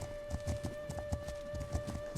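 Horse hooves clip-clop in a steady, even rhythm in a long-distance horseback survival video game, a close and moderately loud walking gait over a constant background drone, with no talking.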